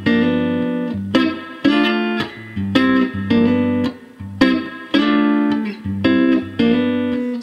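A clean jazz guitar plays a bluesy lick from a 6/8 blues in G, with plucked notes and short phrases in a lilting triple feel, close and clear, with no voices.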